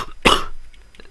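A single sharp, close cough, followed by faint quiet breathing.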